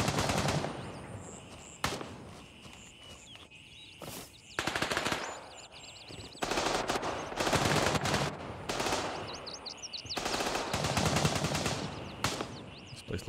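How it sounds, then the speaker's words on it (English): A nearby teammate in Grey Zone Warfare fires guns in repeated loud automatic bursts separated by short pauses, with faint ambient tones between the volleys. "there's a teammate here close by firing as well"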